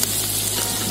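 Ginger garlic paste fries with sautéed onions in a village kitchen pan, a loud dense continuous sizzle close up with no talking.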